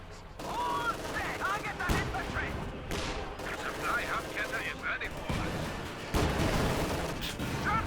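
Gunfire in Company of Heroes 2: dense bursts of rifle and machine-gun fire with heavy booming impacts, continuous and loud, under a voice talking throughout.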